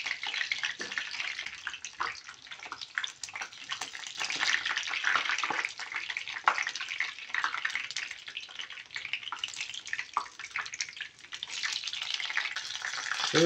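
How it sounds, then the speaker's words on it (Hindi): Vegetable spring rolls deep frying in hot oil, a dense, even bubbling hiss that runs steadily from start to finish at a moderate level, with no talk. "ऑयल हमारा गर्म हो चुका है। इसमें हम डालेंगे रोल्स और इनको फ्राई करेंगे।"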